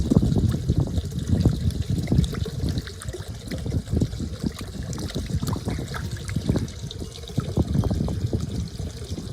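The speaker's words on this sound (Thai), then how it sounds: "เอามามาล้างเอาใบหม่อน แล้วก็เครื่องปรุงต่างๆออกนะครับ" Fish being rinsed in water to wash off mulberry leaves and seasonings, a steady close splashing and trickling with continuous sloshing throughout.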